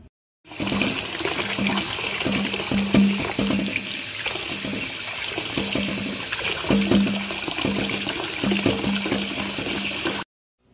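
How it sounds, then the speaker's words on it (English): Shrimp rinsed and thawed in a bowl of water at a kitchen sink, with steady running and splashing water throughout, close and fairly loud, with recurring low rhythmic sloshes. "put your shrimp in a bowl of water, thaw them out, and rinse them off"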